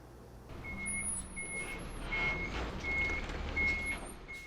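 A supply truck loaded with masks backs up on a cold morning, its reversing alarm beeping at a regular pace over a low idling engine, with no voices heard.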